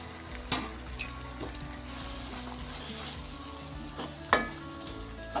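Spinach sizzles steadily as it fries in a pan for a Telugu palak curry, a continuous close crackle with a few sharper clinks and stirring knocks, no talking.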